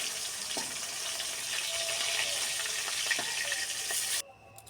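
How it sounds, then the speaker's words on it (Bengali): Fish frying in a pan of hot oil gives a continuous close sizzle with scattered crackles and a few faint utensil clinks, then cuts off abruptly near the end. "মাছগুলো পুরো ভাজা হয়ে গেলে তুলে নেবো"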